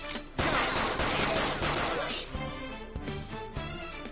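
Gunfire at a shadow in Persona 5 Royal: a loud burst of crashing shots with impacts, fading into game music and chimes, with a voice talking over it.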